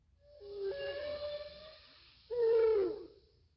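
Two mournful, wavering cries from a dying whale, used as a sound effect in a narrated story; a long moaning call followed by a louder, sharper scream, eerie and echoing with no speech.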